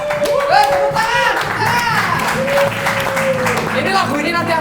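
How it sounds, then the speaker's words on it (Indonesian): Crowd clapping at a band gathering in Indonesia, loud and close, mixed with voices and singing that run through it for several seconds. "Tepuk tangan."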